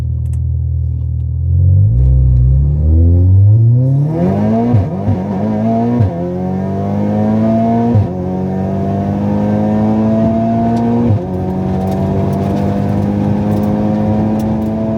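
A 620bhp Audi S3 8V launches hard on a quarter-mile drag run, its engine note climbing steadily through several gear changes with brief dips at each shift, loud and close throughout with no talk.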